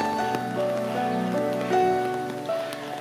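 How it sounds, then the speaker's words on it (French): Heavy tropical rain falls in rainforest at a bird park on the Brazilian side of the Iguazu falls, a steady patter with tonal calls sounding over it. "on reste dans l'ambiance humide ce matin avec une bonne pluie tropicale"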